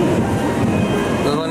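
A Nozomi Shinkansen high-speed train pulls into the station with a steady, loud rolling rumble and a faint high whine toward the end, heard alone without talk.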